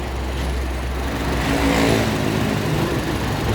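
A Honda HR-V 1.8 i-VTEC car engine runs steadily at idle, a low continuous hum with a slight rise in intensity midway, close by with no talking.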